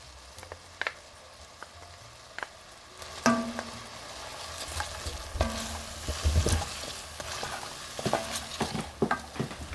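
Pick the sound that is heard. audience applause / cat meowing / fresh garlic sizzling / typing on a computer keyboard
fresh garlic sizzling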